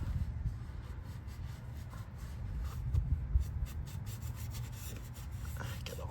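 A rag rubs and scrubs over the oil drain plug of a 2019 Chevrolet Colorado during an oil change. The rough, close wiping strokes run continuously at a low level, with faint shuffling mixed in.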